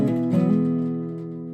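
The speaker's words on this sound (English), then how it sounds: "And then you get to the middle finger hammer-on." Acoustic guitar hammer-on with the middle finger in the intro of a song: a quick pair of notes sounded over a ringing chord that fades out, alone and close.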